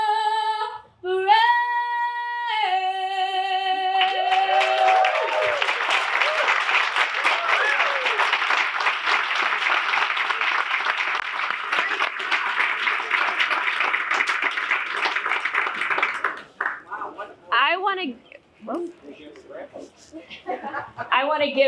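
A township community event crowd breaks into sustained applause after a sung anthem ends. The clapping is loud and steady for over ten seconds, then dies down as a speaker begins talking over scattered claps.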